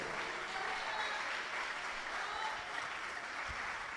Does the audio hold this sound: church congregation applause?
yes